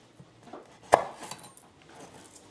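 A knife cutting the ends off garlic cloves: one sharp close tap of the blade against a board, with faint handling clicks before and after in a quiet kitchen.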